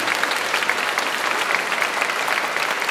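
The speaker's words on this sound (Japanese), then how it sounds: "両選手にどうぞ今一度大きな拍手をお送りください" A large crowd gives dense, continuous applause for two players of the Akita Northern Happinets basketball club at the team's 10th-anniversary special event. The clapping is steady and loud from start to finish, with no speech.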